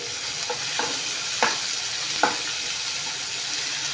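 Three coarsely chopped onions sizzle steadily in hot oil in a pan for a paneer cashew tomato curry, with a few distinct scraping stirs of a spoon against the pan over the constant frying hiss.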